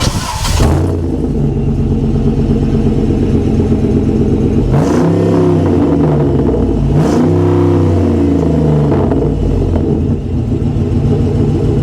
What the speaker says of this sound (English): It is a Jeep after all. It's going to be kind of noisy in comparison to most stuff going down the road